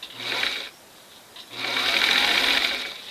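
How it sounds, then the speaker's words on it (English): A sewing machine stitches fabric for a bench cushion with piping, whirring steadily in two close, even bursts separated by a short pause. "And then I move my hand down, line it up, and sew."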